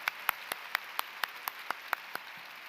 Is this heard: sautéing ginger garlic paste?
no